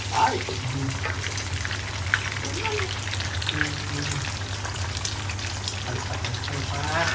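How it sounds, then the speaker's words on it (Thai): Stir-frying in bacon fat, three portions in one pan at once: a steady close hiss and crackle of sizzling oil with light clatter, running throughout under a low hum and voices talking. "นี่จะผัดทีเดียวสามจานเลยนะฮะ น้ำมัน นี่น้ำมันจาก เบคอนเลย"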